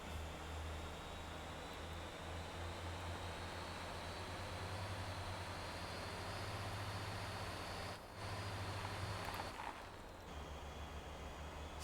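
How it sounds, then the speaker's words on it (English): A steady, droning vehicle engine in the video game Motor Town hums continuously with a low rumble, briefly dipping twice near the end, no talking. "at least we can now hear the engine again"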